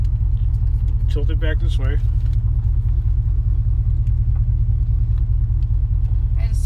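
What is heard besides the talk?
car engine idling as a learner drives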